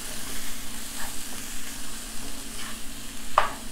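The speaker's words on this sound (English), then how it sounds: "So I'm turning this off and then mixing it in." A purple cabbage and squash scramble in a pan with the heat turned off is stirred with a big spoon, giving faint, soft scrapes and light sizzling at close range.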